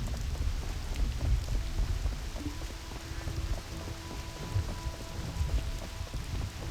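Steady rain falls in the video game Skyrim, a dense continuous patter with occasional low rumbles, loud and unbroken throughout with no talk.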